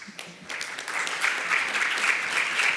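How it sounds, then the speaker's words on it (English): Conference audience applause welcoming two speakers onto a stage for a fireside chat, starting with a few claps then swelling into a steady, moderately loud round of clapping. "Let us all welcome Mr. Tunc and Mr. Hedart on stage with a huge round of applause"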